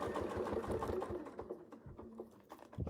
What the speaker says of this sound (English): we just sewed that one and it's right on the line